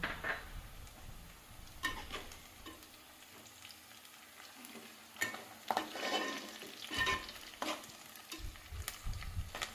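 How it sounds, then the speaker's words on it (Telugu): Green chilies and curry leaves fry in a pan with a soft, fairly quiet sizzle, punctuated by scattered scrapes and taps of a spoon stirring. "దీంట్లో పచ్చిమిర్చి, కరివేపాకు కూడా వేసుకుంటున్నా"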